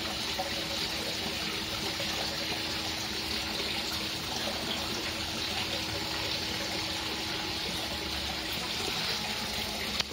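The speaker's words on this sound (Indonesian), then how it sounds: "Ini air terjunnya" Water splashes and trickles steadily in a continuous wash, like a small waterfall pouring into a pond, with no voices.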